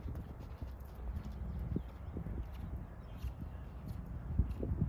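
A horse cantering in a hunter-style jumping lesson, its hoofbeats thudding in a steady rolling rhythm, fairly soft and at some distance, with no talk.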